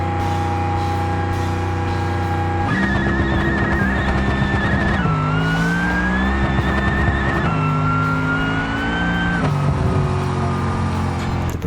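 A drag racer called the Burnside Special makes a full no-prep drag pass in BeamNG, its engine roaring loud and continuous with rising pitch through several sharp gear shifts, with a tire squeal near the start.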